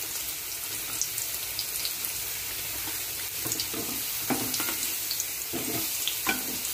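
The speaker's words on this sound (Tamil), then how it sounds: "மெதுவாக திருப்பி ரெண்டு சைடும் நல்லா வேக வச்சுக்கலாம்." Samosas deep-frying in oil and being turned to cook both sides, a soft continuous bubbling sizzle with occasional light clinks and stirring sounds, fairly quiet, no voices.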